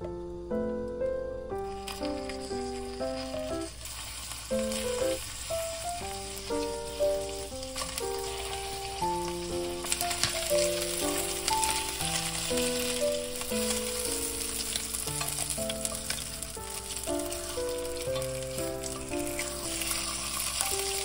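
Abalone fries in a pan with butter, soy sauce and syrup, a steady close sizzle running throughout under background music.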